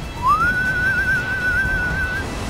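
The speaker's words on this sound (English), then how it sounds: "I just kind of whistle into the wind." A character in the video game Enslaved: Odyssey to the West whistles one long, clear, sustained note with a gentle wavering rise, loud and alone.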